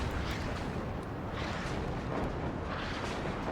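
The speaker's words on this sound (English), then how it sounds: "So yeah, Blue's artillery starting to do a bit." Artillery fire in the video game Warno during town combat, a distant, muffled rumble of rolling booms that blur into a steady low roar at a fairly quiet level.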